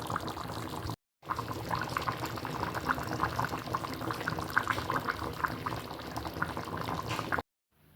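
Curry bubbling in a stone pot (kalchatti) after the stove is turned off, a dense, continuous simmering burble that stays steady and close for several seconds, with no talking.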